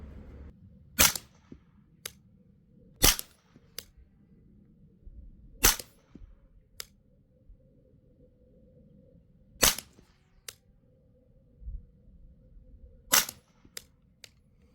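Subsonic 9mm handloaded rounds fired from a CZ Scorpion pistol with a red dot at an outdoor range, five sharp reports spaced a second or more apart, each followed by a quick faint echo over a low rumbling background.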